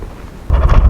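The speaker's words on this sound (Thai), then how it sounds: "ลมแรงไม่ไหว" Strong outdoor wind blowing against the microphone near a children's playground in Fukuoka in July, a sudden loud rumbling buffet that kicks in halfway through and keeps gusting.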